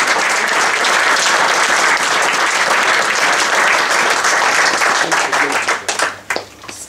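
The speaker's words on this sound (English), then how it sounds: "Let's give them a round of applause." An audience at a public meeting on fracking and climate change gives sustained, loud, dense applause that fades into scattered claps near the end.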